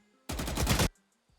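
A short burst of automatic gunfire in a video game gunfight, about half a second of loud, rapid rattling shots that start and stop abruptly against near silence.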